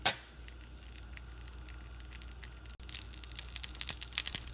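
Mustard seeds tempering in a spoonful of hot oil in a pan, for mango malli chutney: a quiet sizzle gives way after a few seconds to quick, irregular popping crackles that grow denser toward the end, with no talking.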